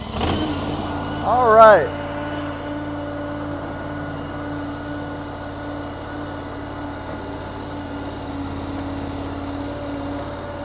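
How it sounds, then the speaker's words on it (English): A Kymron YTL 23 stand-on skid steer cranks briefly and fires up, then settles into a steady mid-pitched idle with a constant hum that lasts to the end. A brief spoken remark comes before the start. "let's go ahead and start the YTL 23 up and give her a try"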